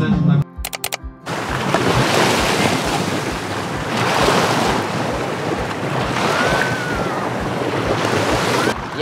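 Ocean waves wash ashore at the seaside at sunset, a loud, steady roar of surf mixed with strong wind buffeting the microphone, after a brief burst of clicks and tones at the start.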